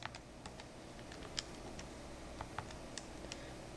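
Buttons pressed on a TI-84 calculator, making a series of quiet, irregular plastic clicks over a low background hum, with no talking.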